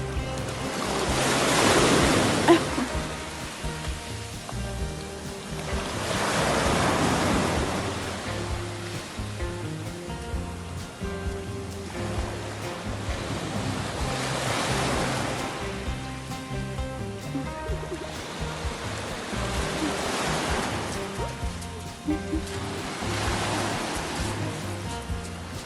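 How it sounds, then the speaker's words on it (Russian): Sea waves rolling onto the shore, with broad surging swells that rise and fall every few seconds in a continuous loud wash; no voices. "Что, Мишель, сегодня видишь, какой море?"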